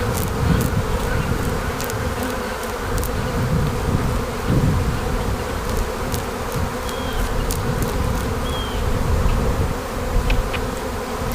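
Bees buzzing around an opened hive during a spring inspection, a steady dense hum close by with occasional louder passes of single bees, no talking.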